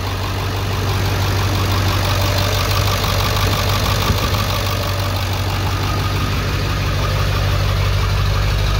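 A Ford 7.3 Power Stroke diesel truck engine idles loudly in the engine bay, a heavy, rattling clatter with a deep steady drone, close and unbroken throughout with no voices.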